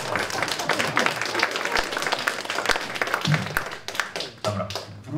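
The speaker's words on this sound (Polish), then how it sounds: "Oklaski też mogą być" A concert audience claps in a dense, loud burst of applause, individual claps crisp and near, thinning slightly toward the end.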